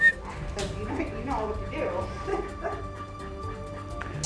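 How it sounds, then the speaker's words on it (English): Short yips and barks from a dog, a large male working through aggression after losing a leg to a gunshot, sound close by during a training session while someone talks. "Just hearing his bark"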